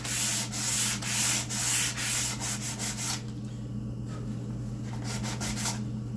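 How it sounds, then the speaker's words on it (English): Sandpaper scrubs back and forth over wooden spice rack parts in loud, close, regular strokes, then gives way to softer, quicker rubs over a steady background hum. "what I'm doing with the sandpaper is actually roughing it up"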